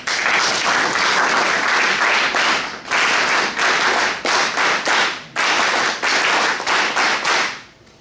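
An audience at a university workshop claps loudly and close, in several sustained bursts with brief lulls between them, fading out at the end.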